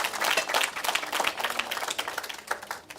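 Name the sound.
applause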